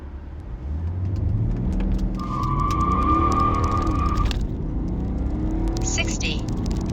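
A BMW 530d G30 diesel launches hard with launch control, engine roaring loud and close from a standstill with a rising gear-driven whine, then easing before a brief higher tone near the end, all under talk.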